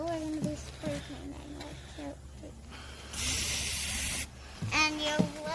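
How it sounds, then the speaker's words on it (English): Aerosol spray paint can hissing in a steady burst of about a second, fairly close, while spray painting a succulent topiary turtle, with children and an adult talking before and after. "So we're gonna be spray painting."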